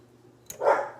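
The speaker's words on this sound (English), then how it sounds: "guys can probably hear my dog in the background" A single short bark from a pet dog somewhere in a home kitchen, one brief muffled woof after a faint click, heard alone at moderate distance.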